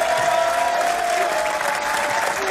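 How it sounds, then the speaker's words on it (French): A paid studio audience claps in a sustained, even burst of applause, loud and close, filling the whole stretch with a faint tonal hum beneath. "Le public qui a été payé pour venir, pour applaudir comme des golems"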